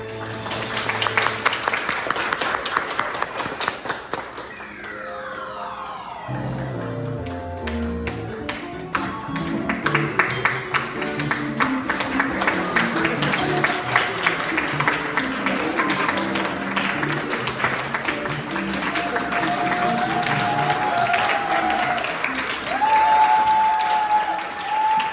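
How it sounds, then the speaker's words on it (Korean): An audience at a church-school high school graduation ceremony claps for a graduate stepping forward, sustained applause throughout while music with a descending run and later tones plays underneath. "박수로 맞아주세요."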